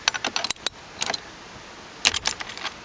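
A steering wheel puller bolt is tightened to pull the wheel off a non-airbag GM steering column, producing three quick clusters of crisp metallic clicking and ratcheting, close and fairly loud, separated by quiet pauses.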